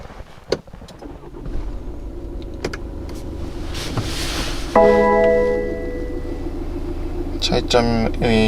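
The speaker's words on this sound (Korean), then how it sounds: "그래서 시동을 걸어보면" A BMW X2 xDrive 20d M Sport diesel engine cranks and catches partway through, settling into a steady idle hum, with someone talking over it.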